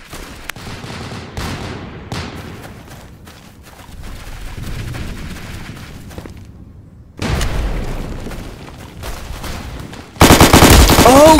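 Loud bursts of machine-gun fire and booming blasts, including a grenade explosion, erupt in the Roblox shooter Unit 1968, with dense rattling volleys building to a very loud final barrage.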